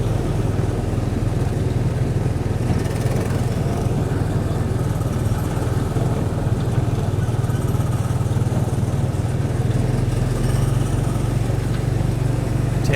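Small ride car engine at the Magic Kingdom speedway, a close, steady buzzing drone that holds at an even level from start to finish with no talk over it.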